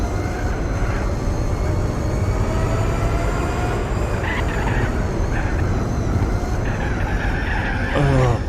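Car tyres skidding under understeer in the racing game Gran Turismo 4, with a continuous loud engine roar and a broad tyre scrub throughout, plus a few brief higher squeals near the end.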